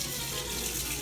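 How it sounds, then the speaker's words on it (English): Kitchen tap water gushes and sprays hard while an ice cream scooper is rinsed, a loud, steady hiss of splashing water filling the whole moment with no talking. "Water just spraying in the air there."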